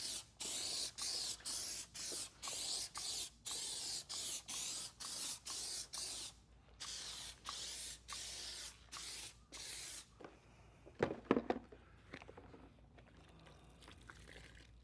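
McKee's 37 N-914 rinseless wash is sprayed onto a car from a trigger sprayer in a rapid run of about twenty sharp, hissing bursts. The spraying then stops, leaving a few soft handling knocks and a quiet background.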